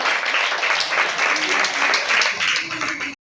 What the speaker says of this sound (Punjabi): ਜ਼ੋਰਦਾਰ ਤਾੜੀ ਲਗਾ ਦਿਓ ਜ਼ੋਰਦਾਰ